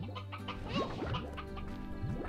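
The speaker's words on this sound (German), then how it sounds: "Da ist ein Gockel." Rooster clucking in Slime Rancher, a few short, close clucks and rising squawks over a steady background of game music, with no one talking.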